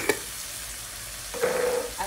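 Spices, pepper and garlic powder are stirred into food frying in a pan, with a soft continuous sizzle, a short clatter at the start and a louder scraping burst near the end.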